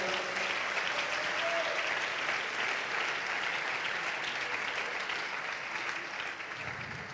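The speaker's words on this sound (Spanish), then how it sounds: "Dele un aplauso al Señor en esta hora." A church congregation claps together: dense, sustained applause that holds strong almost throughout and then thins slightly at the close, with a voice faintly mixed in.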